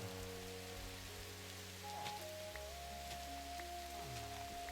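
Steady rain falls in the Minecraft video game, a continuous even patter over layered game music tones, with no talking.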